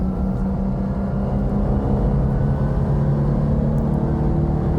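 A steady, loud engine drone from a cheap race car at about 5,000 rpm on track, with strong low harmonics, holding a fairly even pitch throughout with no talking.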